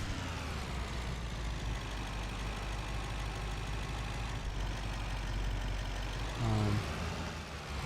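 A tractor engine in Farming Simulator 25 runs with a continuous low rumbling drone, steady and close, briefly rising near the end.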